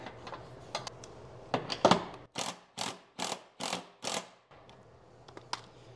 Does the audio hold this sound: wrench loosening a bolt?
yes